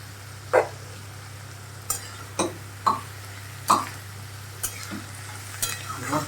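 Two chopped tomatoes go into a hot frying pan and are stirred, with a string of irregular scraping knocks from a spoon against the pan over a steady low hum and a faint sizzle, and no voices.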